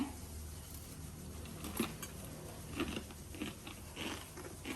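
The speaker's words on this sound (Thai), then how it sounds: "เดี๋ยวลองฟังเสียงนะ กรอบไหม" Crispy deep-fried fish being bitten and chewed up close, with several soft crunches at irregular moments over a quiet background and no talking.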